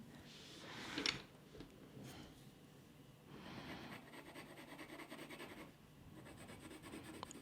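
Colored pencil in walnut brown scratching over paper while zigzag antler patterns are drawn, a soft, close, continuous rubbing with short stroke bursts and no talk.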